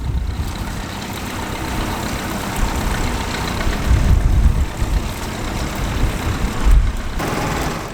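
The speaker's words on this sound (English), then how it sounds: "Back at the top of the hill, the vintage tractors are getting close to a finish." Vintage tractor engines at a ploughing match on a hillside, rumbling steadily at low pitch, with the rhythm rising and falling as a machine works close by and no voices.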